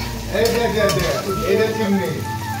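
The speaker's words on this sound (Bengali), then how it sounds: "আজকে করে ভালো করে ভেজে নিচ্ছি" Fish frying in oil in a home kitchen pan gives a steady, close sizzle with a few stirring scrapes and no talk.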